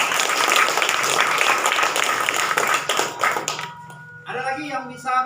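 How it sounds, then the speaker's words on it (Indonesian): Students in a classroom clap together for their classmates for about four seconds, a dense burst of hand claps that fades, followed by a voice speaking. "Coba berikan tepuk tangan dulu untuk teman-teman kamu."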